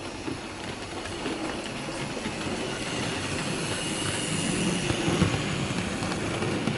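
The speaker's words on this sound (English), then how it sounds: "we've now got the wagon running around the layout behind the J50" A model railway wagon, an Oxford Rail NE grey 4-plank wagon, runs around a layout behind a J50 locomotive with other NE wagons and two brake vans, giving a steady rolling rumble and faint rail clatter that swells slightly toward the end.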